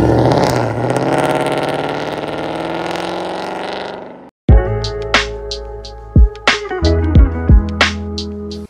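A Ford Mustang GT convertible V8 engine gives a dense, steady idling rumble for about four seconds, then cuts off abruptly. Sharp, separate clacks and tonal hits follow, with no talking.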